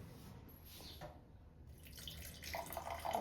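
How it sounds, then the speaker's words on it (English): Warm water runs from a tap into a vessel indoors, giving a faint trickling and splashing that thickens toward the end as it fills. "Let me get some warm water."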